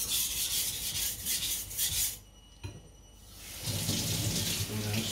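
A Niolox steel nakiri blade scraping across a wet whetstone gives close, steady gritty rasping, with a brief near-silent pause in the middle before the strokes resume at the same pace.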